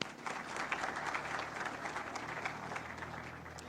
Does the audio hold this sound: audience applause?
yes